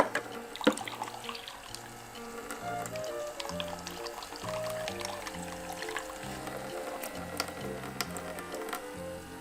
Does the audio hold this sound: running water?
yes